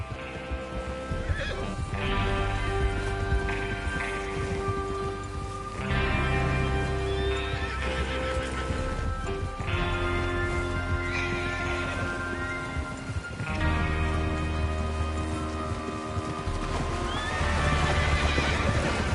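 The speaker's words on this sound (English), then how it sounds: "Get your horses ready." In the video game Red Dead Redemption 2, horses neigh and whinny repeatedly over steady clip-clop of hooves, with a dense, continuous outdoor mix throughout.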